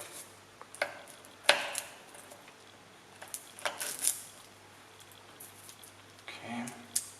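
Garlic being chopped with a knife on a board for a gorgonzola burger, a scattered series of close, crisp taps and clicks of varying loudness under faint room noise.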